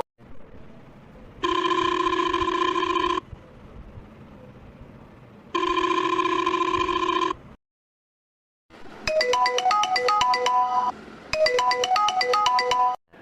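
In a cartoon, a phone rings while a call is placed to a brother. Two long, loud ringing bursts with a pause between them are followed by two bursts of a brighter, melodic ringtone.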